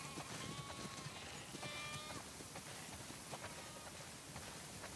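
A flock of sheep on a farm in The Last of Us Part 2 bleats in several overlapping wavering calls, moderately close, over a steady backdrop of rain-like ambient noise.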